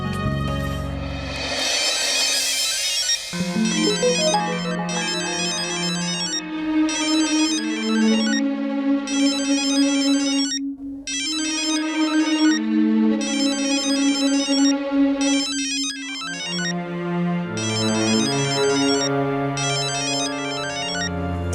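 A melodic phone ringtone plays loudly and continuously, cycling through a repeating tune with short gaps between phrases.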